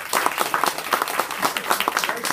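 An audience at a book launch party in a bookshop claps, the individual hand claps fairly distinct and irregular, building into moderate applause that holds steady and fairly close.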